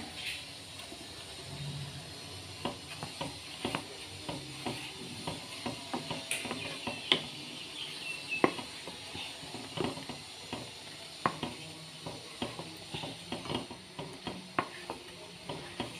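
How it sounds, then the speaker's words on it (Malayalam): Milk with milk powder being stirred in a pan over a medium flame, a soft steady sizzle broken by frequent light scraping and clinking strokes of the spoon against the pan. "നല്ലവണ്ണം ഇളക്കി കൊടുക്കുക അടി പിടിക്കാതെ ഞാനിങ്ങനെ മീഡിയം ഫ്ലെയിമിൽ ഇങ്ങനെ ഇളക്കി കൊടുത്തുകൊണ്ടിരിക്കുന്നതാണ്"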